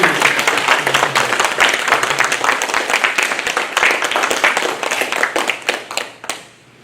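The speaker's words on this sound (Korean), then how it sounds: "우리 환영의 박수 한번 좀 보내주세요" A church congregation claps in welcome for returning members at a Sunday worship service, dense sustained applause close by and filling the room, tapering off near the end.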